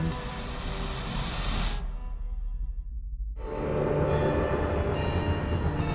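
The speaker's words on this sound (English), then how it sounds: "My Lizzie, what is this train's destination?" Train rolling along in the video game Alice: Madness Returns, a loud, steady rumble with a high ringing tone that cuts out briefly midway and then returns full and continuous.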